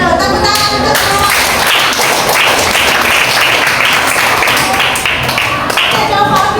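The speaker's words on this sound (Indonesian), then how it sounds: "Tepuk tangan untuk semua." A room full of people at a health talk claps loudly and steadily for everyone, close and dense with a brisk, slightly rhythmic beat and no speech.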